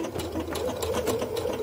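A sewing machine stitching a decorative snowflake end-of-pattern stitch, a fast steady mechanical whirring hum with rapid rhythmic needle ticks, close and alone.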